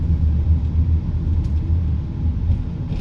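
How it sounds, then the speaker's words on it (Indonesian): Cars in a late-afternoon traffic jam in Pondok Labu, a steady low road rumble heard from inside a vehicle, continuous and even, with no talk over it. "Udah macet aja di sini."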